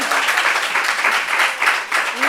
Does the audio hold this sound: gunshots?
no